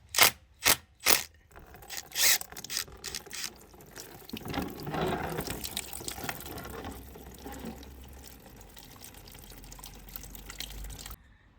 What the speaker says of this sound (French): on va rincer le circuit avec le nouveau liquide de refroidissement